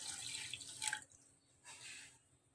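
A cup of water splashes into a pot of jaggery in two short pours, a brief hissing gush, a pause, then another softer pour, close and quiet.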